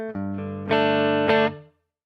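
Dry guitar DI signal played through a Quad Cortex with no delay or reverb, a few sustained distorted chords struck in turn, loud and close, ending abruptly in silence.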